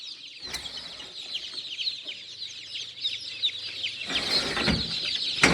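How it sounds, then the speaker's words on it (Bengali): Black Australorp chicks from a hatching machine on a farm chirp continuously in a dense, high, overlapping chorus, close and lively, with occasional clatter and no voices. "অরিজিনাল ব্ল্যাক অস্ট্রেলপ মুরগির বাচ্চা।"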